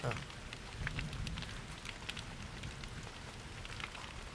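Rain falls steadily, a faint, crackling patter of drops spread across the whole stretch with no clear break, heard quietly and at some distance.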